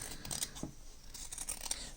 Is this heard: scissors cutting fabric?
yes